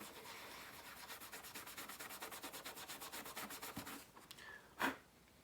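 A boot is rubbed down to clean and prepare it, with steady rhythmic back-and-forth scrubbing strokes, close and soft, ending with a short pause and a single sharp knock.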